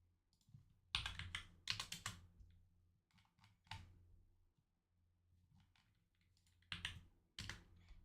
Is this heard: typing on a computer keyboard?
yes